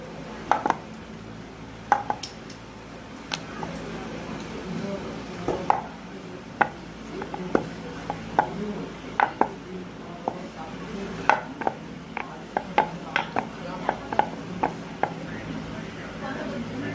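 Rolled savory biscuit dough is cut into rounds, giving a string of soft, irregular tapping knocks against the board, some single and some clustered, close and moderately quiet.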